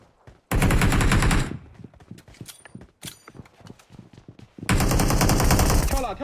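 Loud automatic gunfire bursts from a multistory building battle in a video game, with two long sustained volleys separated by scattered single shots and thuds in between.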